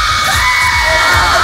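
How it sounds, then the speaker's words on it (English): A film crew on the Thor: Love and Thunder set screams together on cue, a loud, sustained crowd of yelling and whooping voices that fills the clip. "3, 2, 1, scream!"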